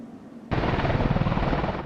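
A US Apache attack helicopter on patrol over the Strait of Hormuz and Gulf of Oman roars in abruptly and stays loud, with a rapid rotor pulsing under the steady engine noise.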